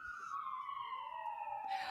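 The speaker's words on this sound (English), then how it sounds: "apologies if you hear sirens or drilling in the background" An emergency vehicle siren passing outside, a single long wailing sweep that slides gradually downward in pitch, heard at moderate distance with no talk over it.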